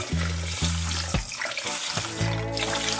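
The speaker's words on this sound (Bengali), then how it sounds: "চালটা 3 থেকে 4 বার ধুয়ে আমি ছেঁকে" Running water splashes over Gobindobhog rice being rinsed in a pot under a tap, a steady close rush broken by short pauses as the grains are swirled, with harmonic hum from the stream.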